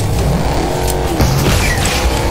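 A car driven in the Fortnite video game makes a loud, steady engine roar with a tire-squeal edge, running continuously without pause.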